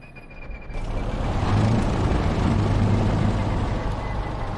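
An aircraft engine starts up in a flight simulator game: a brief click and high tone give way to a loud, broad rushing roar that builds over about a second and then holds steady.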